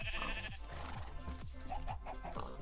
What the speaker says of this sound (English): Jeb the rainbow changeling sheep.